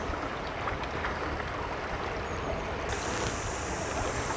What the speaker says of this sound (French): Cette rivière, c'est l'Ariège.